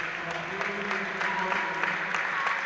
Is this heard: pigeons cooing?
no